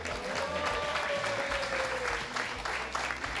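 Dense, continuous applause from an audience at an Italian motoring event, loud and close, with a faint voice briefly audible underneath.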